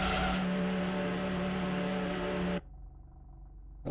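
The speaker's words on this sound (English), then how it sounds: "we launched the McLaren again" A McLaren launching off the grid in the Grand Prix 2 racing game at the Adelaide Australian GP, a loud buzzing engine note with a steady tone that cuts off abruptly, leaving a quieter low rumble.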